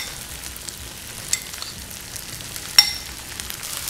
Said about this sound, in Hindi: आपने चिकन और जो प्याज है इसको अच्छा सा गोल्डन कर लेना है